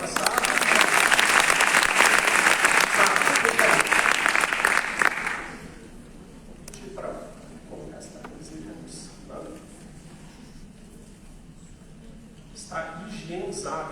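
An audience at a neurotechnology and psychotherapy session applauds a volunteer, loud sustained clapping for about five seconds that cuts off sharply, followed by quieter room murmur and voices talking.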